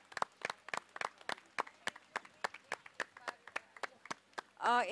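Sparse, scattered hand claps from a small audience at a press launch for the &TV show Ek Mahanayak Dr BR Ambedkar greet director Imtiaz Punjabi onto the stage; the claps are fairly faint, and a brief voice cuts in at the end.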